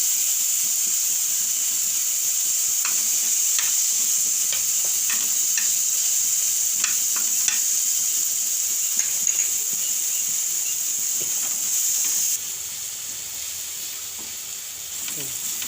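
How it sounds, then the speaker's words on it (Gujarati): Onion frying in hot oil with ginger, chilli, garlic and asafoetida gives a loud, steady hissing sizzle with occasional stirring clicks, easing slightly toward the end. "આપણે ઘડીક વાર ચડવા દેવું ડુંગળી તેલમાં."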